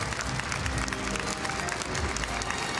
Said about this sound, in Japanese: 皆様大きな拍手をお願いいたします